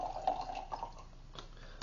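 Joel Gott wine pours into a glass in a soft, gurgling trickle that fades, ending with a sudden sharp clink or thump close by.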